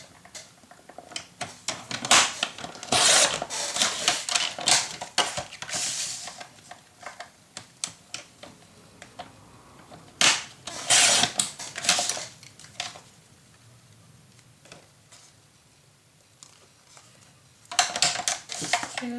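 Paper being cut by hand for a craft project, with a scored and folded sheet trimmed in several bursts of crisp snipping and rustling, close and fairly loud, separated by quieter pauses.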